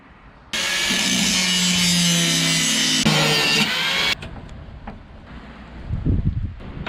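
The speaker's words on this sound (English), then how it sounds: "I'm gonna have to get the grinder on today" An angle grinder cutting into the body panels of a VX Commodore being wrecked for parts, a loud, steady high-pitched whine of abrasive cutting for about four seconds that then stops abruptly, leaving quieter knocks and handling noise.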